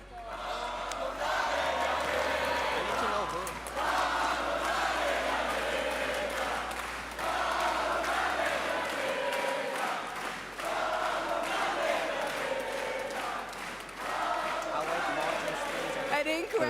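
Large esports arena crowd at a VALORANT Masters London grand final, singing together in swelling chant-like waves and cheering, loud and reverberant, with a voice over the top at times.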